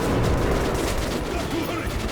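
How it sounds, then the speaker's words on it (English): Enemy gunfire salvo in the shooter game Metro Last Light, a dense, loud burst of shots filling the whole moment with no pause. "He's shooting! The next salvo!"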